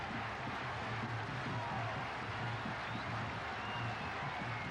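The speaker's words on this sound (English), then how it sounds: "And a standing ovation from this crowd" A crowd at a 1996 World Cup cricket match between Sri Lanka and Kenya gives Aravinda de Silva a standing ovation, with broad, distant applause and crowd noise under a faint murmur of talk.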